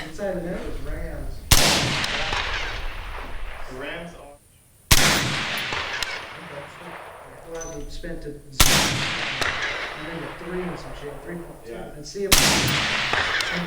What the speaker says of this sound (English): I just want to put one round on each target just to prove that these actually can compensate for the bullet drop